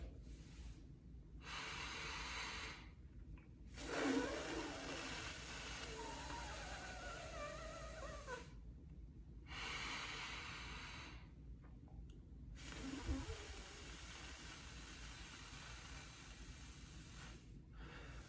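Pursed lip breathing demonstration, slow breaths in and long hissing exhales through pursed lips, close and fairly quiet, repeated in a steady cycle with brief pauses between.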